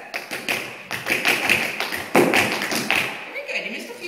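Tap shoes strike a floor in a quick, rhythmic run of close, crisp taps and heavier thuds, with a voice talking faintly underneath.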